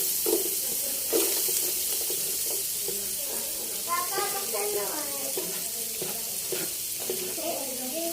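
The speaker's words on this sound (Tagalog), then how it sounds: "Ilalagay na po natin ang ating sibuyas at bawang." Onion and garlic frying in a pan for cream sopas, a continuous close hiss and sizzle with some stirring clatter, while voices talk over it in the middle.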